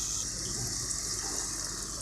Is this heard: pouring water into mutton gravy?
yes